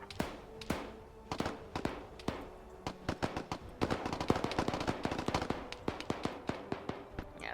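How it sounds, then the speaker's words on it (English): Gunfire in a military combat video game, with rapid bursts and single sharp shots cracking in irregular clusters that grow busier midway, at moderate distance and without speech. "Yeah, so this guy hears gunfire."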